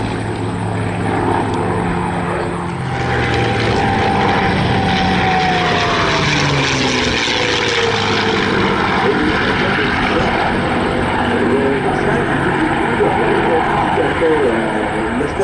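A North American-built warbird's 1,300 horsepower Merlin engine at an air show, a loud, sustained propeller drone with a pitch that sweeps downward as it passes, heard under a commentator's voice.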